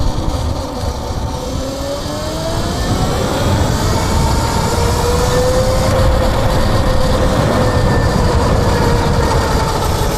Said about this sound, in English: That rattling noise is a little weird when I put the brakes on and slow the bike down.